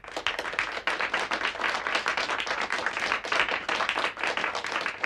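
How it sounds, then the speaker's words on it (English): A panel discussion audience gives a round of applause, dense steady clapping from many hands filling the whole stretch at close range, with no talking over it. "I'll ask kind of us to give a round of applause to our audience, to our panel"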